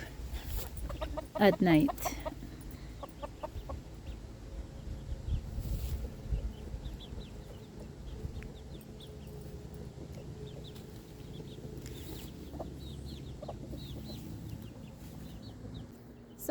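Chickens clucking around a backyard coop and playhouse, with a few louder calls near the start followed by soft, scattered clucks and chirps while a person talks over them.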